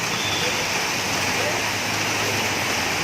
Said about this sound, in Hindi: देखिए बारिश ने तूफान मचा दिया है